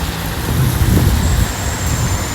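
Dense traffic on a flooded road in Sharjah, a steady broadband roar of car, bus and truck engines close by, with a faint high whine running through and no voices.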